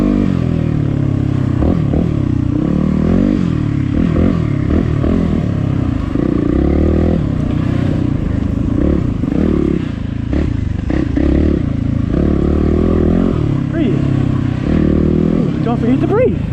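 A Yamaha WR250X dual-sport motorcycle ridden in first gear on a camping trip, its engine droning steadily and loud up close with shifting pitch and scraping clatter throughout.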